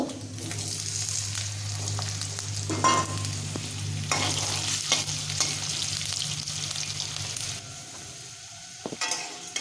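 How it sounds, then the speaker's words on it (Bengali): Potatoes fry in hot oil with bay leaf and five-spice (panch phoron) for a cabbage dish, a loud continuous sizzle broken by spatula scrapes and clanks against the kadai. "এবার আলুগুলা দিয়ে ভেজে নেব"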